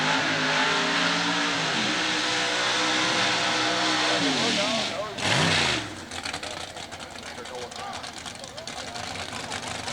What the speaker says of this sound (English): that vintage 1957 Chevrolet 770 cubic inches of big block Chevrolet